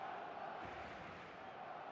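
Steady roar of a stadium crowd in the eFootball video game, a broad, even wash of massed voices that stays moderately faint and unbroken throughout.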